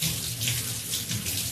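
Running tap water pours steadily into a sink as something is rinsed during smoothie making, a close, continuous splashing hiss with no voices.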